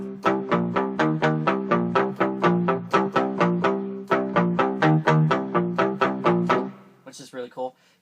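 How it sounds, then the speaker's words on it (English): A Casio WK-7600 keyboard plays a distorted palm-muted guitar tone in a rapid run of chugging staccato notes that rise and fall in pitch, clear and close, ending in a short trailing phrase. "Distortion mute right here."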